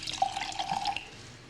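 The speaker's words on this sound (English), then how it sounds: "pour a little wine," White wine poured from a bottle into a glass, a thin steady trickling stream running for about a second before tapering off, close and fairly quiet with no talk.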